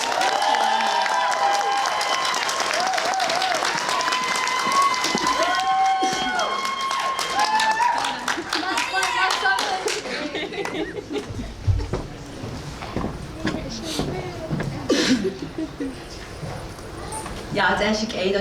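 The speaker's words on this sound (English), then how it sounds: "Let's give a round of applause for Jalen." A poetry slam audience at a student conference claps and cheers, with loud voices and whoops over the applause at first. The cheering fades into scattered claps and talk.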